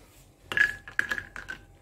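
Cashews dropped into hot ghee in a home kitchen pan give a few quick clinks and a short sizzle, with faint rattling pieces over about a second, close and fairly soft.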